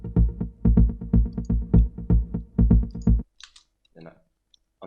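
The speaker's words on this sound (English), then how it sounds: "But so the bass line sounds like this." A Serum synth bass line for a progressive house track plays alone in short, punchy, rhythmic notes for about three seconds, then stops, leaving a few faint clicks and mouse or keyboard sounds.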